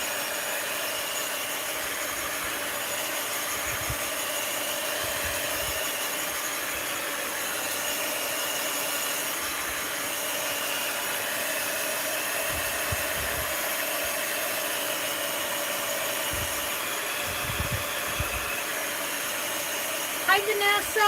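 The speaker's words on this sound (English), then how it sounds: "We'll hit it with the heat gun a little and then I'll just let it dry" A heat gun blowing over a mixed-media art journal page to dry it, giving a steady, even whirring hum that runs unbroken for about twenty seconds at moderate loudness.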